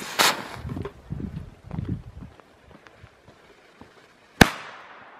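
A Harzer Teufelsknaller friction-head firecracker goes off with a single sharp, loud bang that rings briefly. It follows a few seconds of faint low rustling and murmuring.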